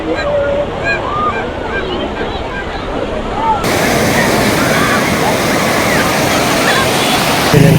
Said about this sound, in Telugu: అది పేరుపాలెం బీచ్ అంటారు.